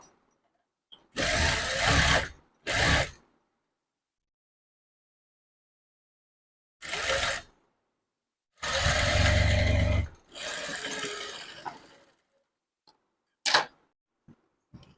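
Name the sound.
sewing machine double stitching a blouse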